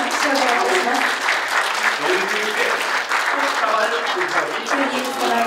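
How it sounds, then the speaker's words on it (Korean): An audience at an award ceremony for an education and culture foundation claps in a loud, sustained round, many hands together throughout, with a voice briefly audible beneath. "皆様拍手をお願いいたします。"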